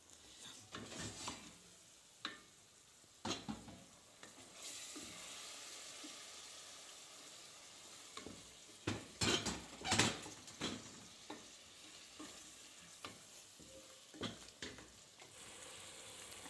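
Vegetables sizzling and frying in a pan, with tomatoes added, quiet steady hiss broken by sharp scraping stirs and clatters near the middle and end, no talk.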